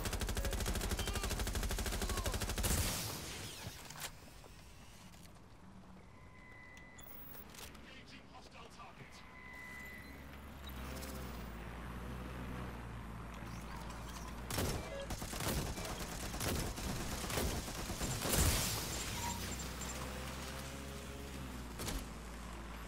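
Gunfire in the video game Watch Dogs Legion: a few sharp, loud shots and short bursts ring out at scattered moments across a busy game soundscape, with someone talking throughout.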